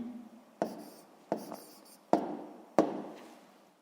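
Pen or chalk strokes sound as a math exercise solution is written out, giving four distinct, fairly faint taps and scratches spaced under a second apart in a quiet room.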